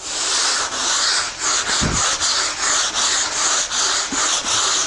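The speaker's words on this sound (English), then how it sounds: "On the way back, I'll tip the pad a little bit and use the cushion and a corner to sand through those dips" A sandpaper pad rubs across a wood surface that is being distressed for an aged look, in steady back-and-forth strokes with brief pauses between them. The sound is close and loud, with no talk.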